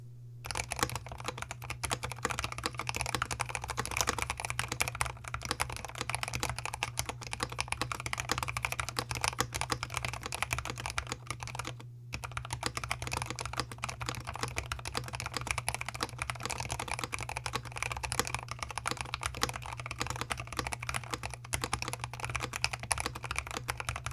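Continuous rapid clacking of keys on an EPOMAKER TH66 65% mechanical keyboard with stabilizers and dampening foam under the spacebar, steady and close, with a low constant hum beneath and a brief pause midway.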